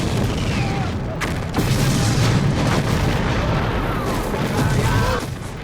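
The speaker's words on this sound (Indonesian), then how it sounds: "Hujan balistik kaliber 75 mm ini bagai tak pernah berhenti" Heavy, continuous booms and rumbling blasts of 75 mm artillery shelling roll on without pause, loud and dense throughout.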